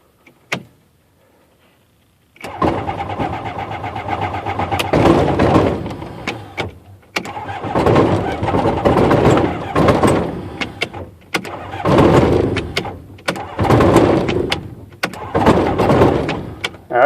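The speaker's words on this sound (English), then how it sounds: "The only way I can get it going is if I turn the ignition off, get it spinning, and then hit the ignition on." A Rotax aircraft engine with a hard-starting fault and suspected bad starter clutch cranks, then catches, running loud and close in surging, uneven bursts with brief dips between.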